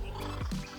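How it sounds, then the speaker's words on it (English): A kookaburra perched on a fence gives a brief, throaty cackling call, heard at a moderate distance against outdoor background noise. "There's a kookaburra. It's sitting right on the fence."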